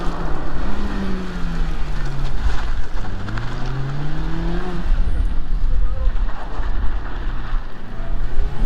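A Mazda Miata driven hard around a small track course, its engine revving up and down in repeated rising and falling sweeps, heard from a distance over steady background noise.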